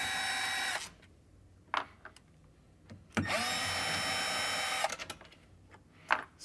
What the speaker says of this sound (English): taking a T25 to take out both left and right taillights